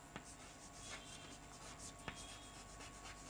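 Marker or chalk strokes on a board during an accounting lesson, faint and brief, with a couple of sharper taps amid quiet room noise.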